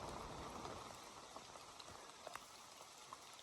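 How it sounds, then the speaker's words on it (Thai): Heavy rain falling in a forest, a dense, steady hiss of drops with a few sharper nearby drips, fairly faint and with no voices. "ฝนตกหนักทุกคนเลยเปียกเบิด"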